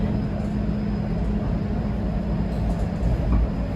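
A TTC streetcar rolls along the 510 Spadina route in Toronto with a steady, close rumble and rattle.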